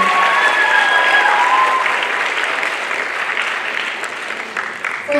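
A crowd claps loudly and continuously, the applause slowly tapering off toward the end.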